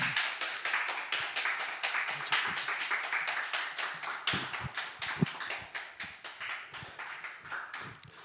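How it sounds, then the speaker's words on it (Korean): A church audience claps steadily with fairly even rhythm to welcome a pastor's lecture, the applause gradually fading toward the end. "여러분 그동안의 노고에 감사하는 마음으로 기대를 담아 박수로 모시겠습니다"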